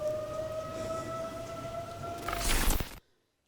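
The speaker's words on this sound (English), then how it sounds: "The tornado sirens just went off." A tornado warning siren in North Alabama wails as a steady two-tone drone, then swells into a loud, rough burst before cutting off abruptly into silence.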